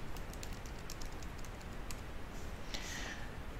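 Headings are typed on a computer keyboard in PowerPoint 2013 outline view, giving soft, quick key taps in uneven bursts over a hissy background, with one louder keystroke near the end.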